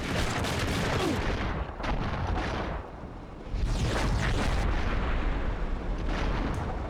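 Grenade blast in the shooter game Enter the Matrix, a loud booming explosion among heavy continuous gunfire and rumbling bursts, with a short lull before the noise surges again.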